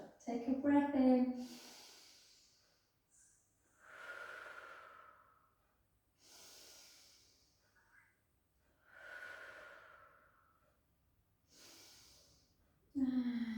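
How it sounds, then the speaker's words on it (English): Slow, deep breaths during a gentle pilates flow: several long, close inhales and exhales separated by quiet pauses, with a voice briefly at the start and end. "Take a breath in."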